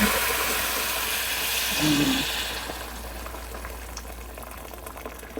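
Water bubbles and hisses at a rolling boil in a pot for fish sinigang soup, a steady rush that eases slightly partway through.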